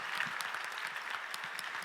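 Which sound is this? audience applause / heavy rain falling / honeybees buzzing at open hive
audience applause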